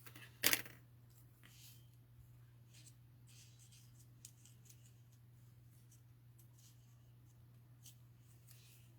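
Scissors trimming a paper gift tag, one crisp snip near the start followed by faint, sparse small clicks and rustles over a steady low hum.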